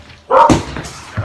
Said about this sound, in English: my dog just gave me a warning